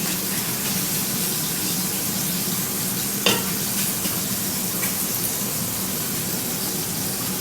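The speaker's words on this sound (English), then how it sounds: "And then just stir it up. You don't want to mash it. Just want to get it all coated." Food sizzles steadily in a hot buttered pan at a steak cook-off as it is stirred with chicken salt to coat it, a constant close frying hiss broken by one brief scrape of the utensil.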